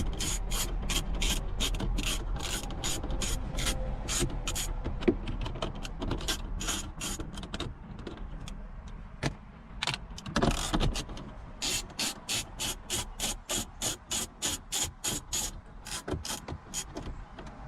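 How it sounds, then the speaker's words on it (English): A 10mm ratchet backs out top bolts, giving rapid rhythmic clicking bursts, with steady ratcheting clicks near the end, close and fairly loud. "We're going to be taking these top bolts off."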